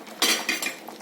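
A spoon stirs thick sweet corn kheer in a cooking pot, giving a few soft scraping clinks against the metal in an uneven rhythm, close and alone.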